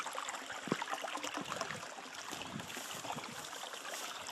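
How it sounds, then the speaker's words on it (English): Creek water trickles and splashes softly as someone wades across it, with faint irregular sloshes against a quiet, steady wash of flowing water. "Just got to cross this creek."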